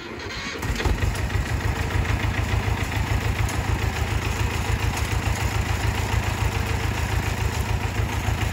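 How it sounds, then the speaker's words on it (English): A farm tractor's engine cranks and catches, then settles into a steady, loud, close idle with a continuous low rumble and no talking over it. "Let's see if I can turn the tractor on."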